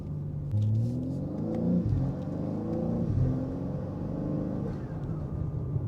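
A 650 hp Manhart MH3 650 BMW M3 Touring engine revs with a deep, rumbling rise and fall, blipping up a few times before settling into a steady, moderately loud idle-like drone.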